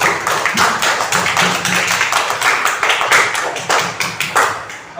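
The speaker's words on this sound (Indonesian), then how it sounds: "Sekali lagi tepuk tangan yang meriah" Children applauding in a classroom, a fairly loud and close burst of uneven clapping and tapping with quick repeated slaps that continues for about five seconds.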